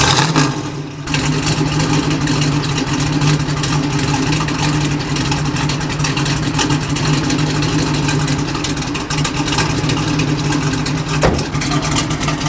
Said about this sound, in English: I'll just give you guys a little sound clip here in the car starting up